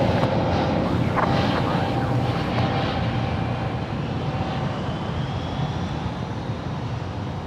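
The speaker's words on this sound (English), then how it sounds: "It's an Airbus A320neo." A Spirit Airlines Airbus A320neo at Los Angeles International Airport gives a loud, broad jet roar that is strongest at first and then slowly fades while holding steady, with no talk.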